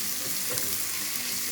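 Chopped onions fry in oil inside a pressure cooker, a brief, even sizzle with a light stir, close and unaccompanied by voices.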